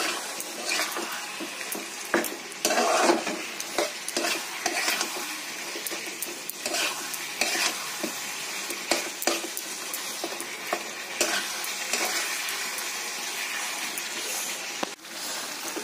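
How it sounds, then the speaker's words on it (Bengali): A spice mixture with chili powder is stir-fried in a pan, giving a continuous close sizzle with frequent scraping and tapping of the spoon throughout, no voices. "ভালো করে মিক্স করে নিয়ে এটা একটু ভালো করে কষিয়ে নিতে হবে, একদম যাতে ভাজা ভাজা হয়ে যায়"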